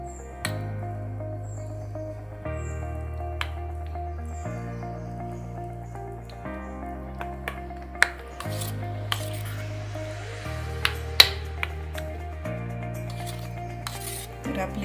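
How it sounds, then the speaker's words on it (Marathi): Tamarind-date chutney with salt being stirred in a bowl, a spoon clinking and scraping against the sides in scattered soft taps over a steady background hum. "हे सर्व मिक्स करून घेऊयात."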